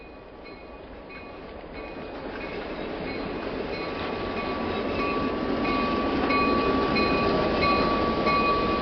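A passenger train with a steam generator car rumbles past in winter on the Whitewater Valley Railroad, at steady volume growing gradually louder, with a continuous wheel roar and a faint high whine, no voices.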